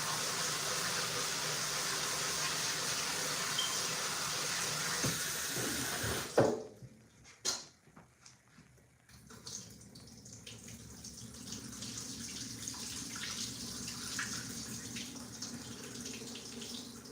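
Tap water runs steadily into a kitchen sink while vegetables are washed, a loud continuous hiss that breaks off into splashes and handling noises, then resumes more softly.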